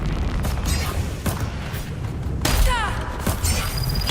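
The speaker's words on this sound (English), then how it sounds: "I'll test out what it's like to use the other grab nade" A grab nade exploding in Dune: Awakening, heard as dense booming blasts and crackling bursts in a busy game soundscape, with a sharp rise around the middle.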